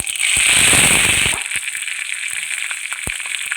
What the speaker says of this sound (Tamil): கொஞ்சோண்டு சீரகம் கொஞ்சம் கருவேப்பிலை